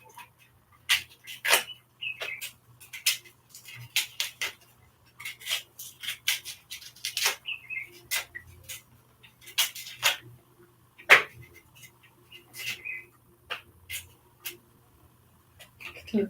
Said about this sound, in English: Still peeling the cassava.